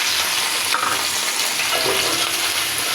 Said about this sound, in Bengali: তো প্রথমে তেলের ভিতরে হচ্ছে পেঁয়াজ দিয়ে দেবো।